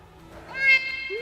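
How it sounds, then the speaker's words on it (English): A single meow, likely a game or voiced cat sound, rises and falls briefly, fairly faint and heard alone without talk. "Meow"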